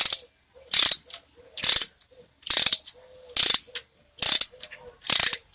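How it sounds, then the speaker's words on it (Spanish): A ratchet driving a 10 mm socket cranks open a bleed screw on a Nissan Platina's cooling system, giving six loud, evenly spaced bursts of rapid clicking with short quiet gaps between them. "Voy a usar un dado de 10 milímetros."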